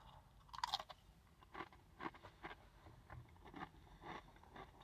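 Doritos Sizzlin' Cheeseburger chips are chewed close to the mic, with a sharp first crunch followed by a run of quieter, irregular crunching bites.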